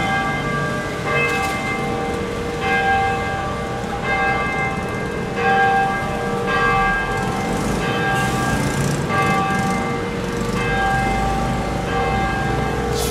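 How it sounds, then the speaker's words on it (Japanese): Church bells ring repeatedly from Nagasaki churches, a series of bright struck tones every second or so with lingering overtones over a steady outdoor hum, moderately distant and without talk. "この長崎にはすごい教会がいっぱいあるから、だから何回も何回もさっきから鐘が聞こえる"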